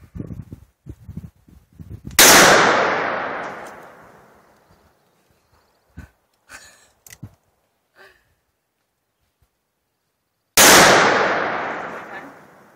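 Two loud .44 revolver gunshots, about eight seconds apart, each a sharp blast with a long ringing decay outdoors, with brief voices and small noises between them.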